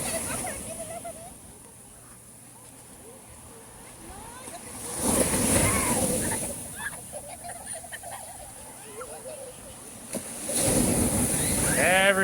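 Ocean waves roll in at a beach in Huatulco, Mexico, two big surges of surf washing through a steady windy roar, with faint voices in the background.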